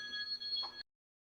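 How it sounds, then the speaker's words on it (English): A mobile phone rings with a bright electronic tone in a garage where a 1968 Ford Galaxie is being restored. One short, fairly soft burst plays alone and then cuts off abruptly into silence. "That's my phone."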